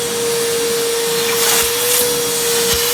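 A Harbor Freight Bauer 6 gallon 4 hp shop vacuum runs close by with a loud, steady whine and broad airflow roar, a strong constant motor tone held throughout with no talking.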